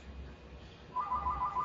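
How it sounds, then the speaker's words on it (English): A telephone rings faintly in the background in short, repeated electronic trills, starting partway through over a low room hum with no talk. "As soon as the phone stops fucking ringing."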